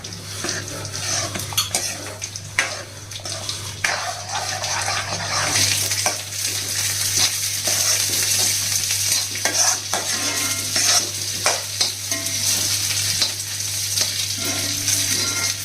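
Tomato upma being stirred in a pan, with a spoon scraping and mixing steadily under a soft sizzle and a low steady hum for the whole stretch.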